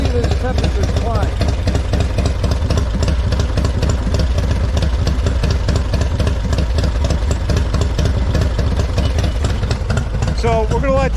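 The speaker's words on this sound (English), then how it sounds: "So we're going to let this idle for another 4 minutes" Harley-Davidson Softail motorcycle engine idling steadily with a loud, continuous, lumpy low rumble, close up throughout with no speech.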